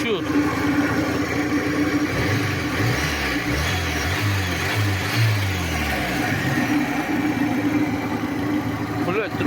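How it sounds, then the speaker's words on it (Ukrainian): A warmed-up carburetor car engine runs steadily at idle with a low, even drone up close, while people talk over it. "мотор робить хорошо"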